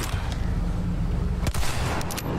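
Dense gunfire in the video game Resident Evil 4, with rapid shots and a sharp burst, loud and nearly continuous over game ambience.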